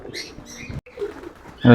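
Jalali pigeons feeding together, with bursts of close wing flapping and soft cooing, a brief silent gap midway and a loud flurry of wings at the end.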